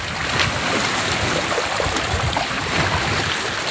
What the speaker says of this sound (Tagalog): Maalon ngayon na ito.